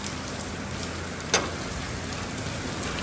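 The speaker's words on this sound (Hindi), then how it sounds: "बारिश फिर दोबारा शुरू होने लगी, काफ़ी हो रही है।" Heavy rain pours down steadily outdoors, a dense continuous hiss of drops striking surfaces, with one brief sharper splash partway through and no voices.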